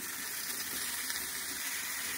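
Water is poured into a pot of boiled mango pickle with jaggery and black salt, producing a faint, steady splashing hiss that runs unbroken for a couple of seconds.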